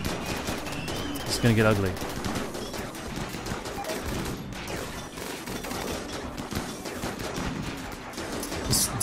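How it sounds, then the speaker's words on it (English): Autocannon fire in the RimWorld video game, a dense burst of rapid shots running under a battle din, with a voice speaking briefly near the start. "This damn gun. Okay, stop firing."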